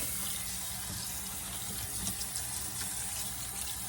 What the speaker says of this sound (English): So we're going to rinse this pasta off real fast.